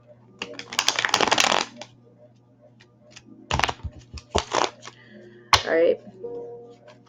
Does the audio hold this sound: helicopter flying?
no